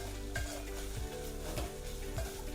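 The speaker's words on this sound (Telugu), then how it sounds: "అదే బాండిలో అది నూనె ఉంది కదా కొంచెం, అందులోనే కొబ్బరి వేసుకొని కొంచెం రెడ్డి చచ్చేలాగా వేయించుకొని పెట్టుకోవాలి." Grated coconut fries in a little oil in a pan, a steady close sizzle with soft scraping of a spoon stirring at regular intervals.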